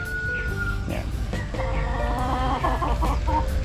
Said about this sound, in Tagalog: yung mga manok natin ay nandyan na rin sa kanilang mga tulugan